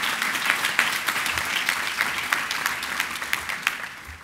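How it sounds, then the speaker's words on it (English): An audience at a university partnership announcement applauds the trustees, a steady dense patter of many hands clapping at moderate distance throughout. "Y'all give them a round of applause."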